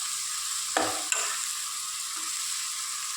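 Ingredients sizzle steadily in hot oil in a pan while a spoon stirs them. A constant loud frying hiss is broken by two brief scraping knocks, and nobody speaks.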